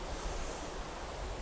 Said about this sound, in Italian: e questa è la cascata principale